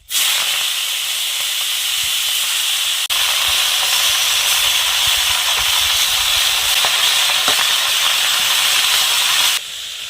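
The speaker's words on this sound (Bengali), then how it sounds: "মাছ ভাজার তেলে আমি একটু পাঁচফোড়ন দিয়ে দেব দিয়ে পালং শাকটা বসিয়ে দেবো" Spinach sizzles loudly in oil left over from frying fish, seasoned with panch phoron, giving a continuous close hiss and crackle that runs throughout, with a brief clatter partway and the sizzle easing near the end.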